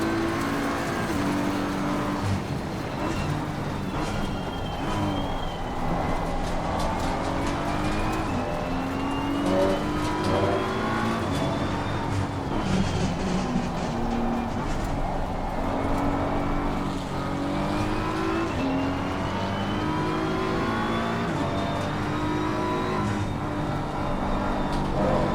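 GT race cars at Watkins Glen in Assetto Corsa Competizione, a loud, dense engine drone with several cars' rising and falling revs overlapping continuously as they run close together.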